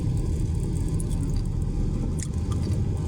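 Low, steady road rumble from slow, crawling Friday evening traffic on the NLEX near Malinta, a constant muffled drone with no clear individual vehicles.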